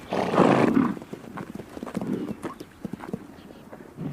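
A horse whinnies loudly at first, followed by a steady clip-clop of hooves on hard ground, fairly close, with no voices.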